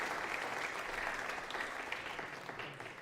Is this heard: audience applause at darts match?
yes